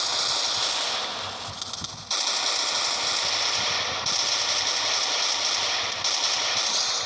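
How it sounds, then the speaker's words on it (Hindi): Rapid gunfire in a mobile battle-royale shooter game, with MP40-style automatic bursts crackling steadily under a dense, loud hiss of game ambience across the whole stretch. "यहाँ पे फायरिंग हो रही है और डेंजर जोन भी है।"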